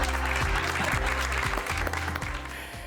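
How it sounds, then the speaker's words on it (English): Contestants at presenter auditions in Johannesburg give themselves a round of applause, with clapping heard under a steady low musical drone and tonal bed throughout. "I think you can all give yourselves a big round of applause."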